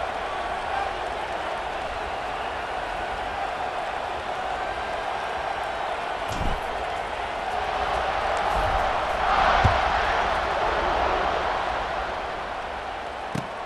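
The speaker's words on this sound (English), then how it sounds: "Kickoff unit is out there again, and this crowd is feeling themselves after that last drive" Football stadium crowd before a kickoff, a steady wash of distant crowd noise and cheering that swells slightly midway, with a few sharp claps and thumps and commentary voices underneath.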